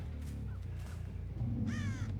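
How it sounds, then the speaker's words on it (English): Crows caw in the Dead by Daylight video game, a few scattered rasping calls followed by a louder, nearer burst of cawing, with no voices. "I hear crows."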